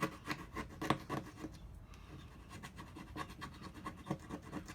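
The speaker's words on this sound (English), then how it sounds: "now I'm going to use the scraper, plastic scraper I was telling you about, and I'm going to see if it comes off" A plastic scraper works adhesive residue off a motorcycle surface after WD-40, giving a run of quiet, irregular rubbing and scratching strokes, close and fairly faint, with no talk.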